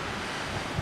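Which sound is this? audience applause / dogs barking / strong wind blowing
strong wind blowing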